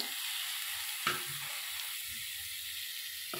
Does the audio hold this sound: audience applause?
no